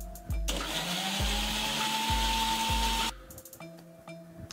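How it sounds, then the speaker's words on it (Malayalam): A kitchen blender whirs loudly for about three seconds, blending oranges with water into juice, with its motor pitch settling as it runs, bracketed by brief clicks and handling noise before and after. "ഇതൊന്ന് അടിച്ചെടുക്കണം"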